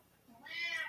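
A house cat gives a single short, bright meow nearby that swells toward the end, with no talk over it.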